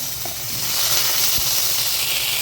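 Onion, tomato and green chilli sautéing in a pan for ridge gourd chutney, giving a moderate, continuous sizzle that swells slightly after the first half second, close by and with no one talking.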